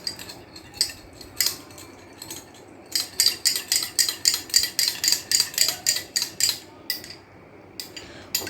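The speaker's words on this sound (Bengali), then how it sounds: "এবারে খুব ভালো করে এটাকে গুলাতে হবে।" Hair pack stirred in a bowl after ten drops of rosemary essential oil are added, giving a run of quick, close scraping clinks from a utensil against the bowl in a steady rhythm, with no talking.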